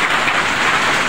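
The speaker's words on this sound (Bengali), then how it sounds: "ধারাম দুরম বৃষ্টি পড়তেছে" Heavy rain mixed with hail pours down in a loud, steady, dense hiss with no break, and no voices are heard over it.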